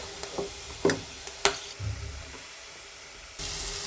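Ground coconut paste frying in a pan for Kerala-style chickpea curry, with a few sharp scrapes and clacks of stirring early on, then a low, faint sizzle that gets louder near the end.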